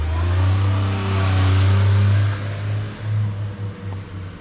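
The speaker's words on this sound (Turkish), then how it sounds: "Bakalım tam saatinde gelebilecek mi otobüs?" A bus pulls up to a stop in Nara, Japan, its mid-pitched engine rumbling loud and close, swelling at first and then easing into an uneven idle as it slows.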